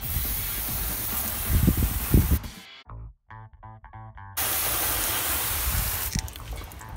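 A steady hiss of water spray rinses tar-remover cleaner off a car's paintwork, running loud in two long stretches with a short quiet break in between, heard alone.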